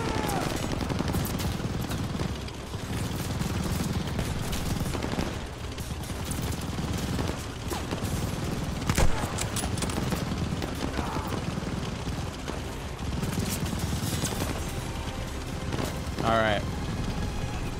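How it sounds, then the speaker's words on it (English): Machine gun fire in Call of Duty: Vanguard rattles in sustained bursts under a player's talk and other battle noise. "Those MGs are crazy."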